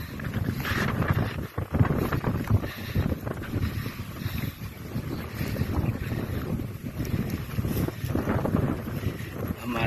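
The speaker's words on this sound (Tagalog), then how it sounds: "lakas ng hangin." Strong wind buffets the microphone in loud, continuous rumbling gusts, with a faint wash of water underneath.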